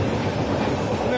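Steady broadband rumble of a moving passenger train heard from inside a carriage, continuous and fairly loud throughout, with faint voices in the background.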